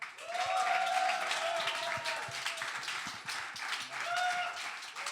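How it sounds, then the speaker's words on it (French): Applause from an audience at a small concert, scattered clapping with some whistles or cheers over it, fairly faint and uneven, building and easing over several seconds. "Applaudissements pour eux en tout cas."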